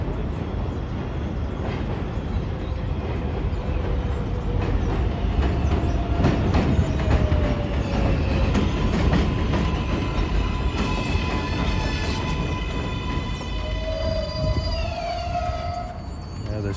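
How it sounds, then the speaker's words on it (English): An NYC 7 line subway train rumbles steadily across an elevated steel trestle, a loud continuous roar with clacking wheels and squealing tones that rise and fall throughout. "this trestle is shaking with every train."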